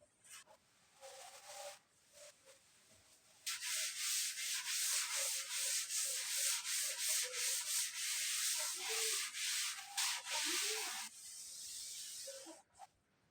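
An eraser rubbing out writing on paper, a quick burst of short scrubbing strokes and then a long run of brisk rhythmic back-and-forth rubbing, close and crisp with no talking.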